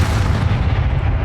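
Heavy, booming spell impact from Descendo cast in the video game Hogwarts Legacy, a dense low rumble that holds loud and steady through the whole brief moment.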